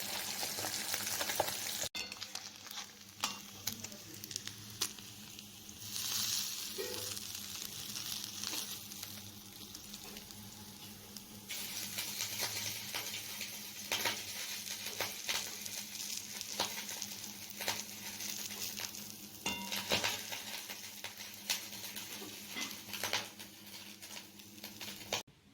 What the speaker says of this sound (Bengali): এদিকে মাছ ভাজা করব, মচমচা করে, একদম মচমচা করে মাছ ভাজা আর ভাত আজকে হবে